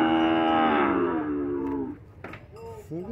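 A cow at a cattle fair in Cipó, Bahia, lets out one long, loud, nearby moo that tapers off. Brief voices and crowd sounds follow.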